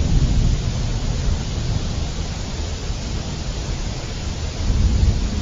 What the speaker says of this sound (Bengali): জোরে বৃষ্টি শুরু হয়ে গেল যে